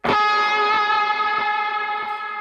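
A single distorted electric guitar chord rings out loud and sustains, drenched in reverb, slowly decaying over a couple of seconds.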